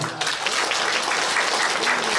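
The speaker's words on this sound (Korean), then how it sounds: "큰 박수 주십시오" Closing a hometown association's year-end evening gathering, the crowd claps in a dense, even burst that stays loud throughout a short stretch, with hardly any voices over it.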